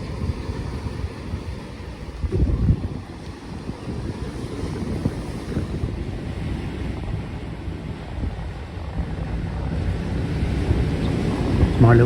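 A rough sea heaves under strong wind, a steady broadband roar of surf and gusts buffeting the microphone, loud and continuous throughout.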